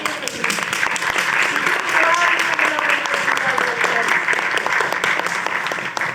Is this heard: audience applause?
yes